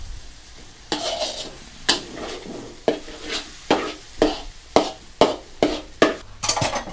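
Pink rice noodles are stir-fried in a large wok, with a spatula scraping and tossing in a steady rhythm of about ten loud strokes over a low sizzle.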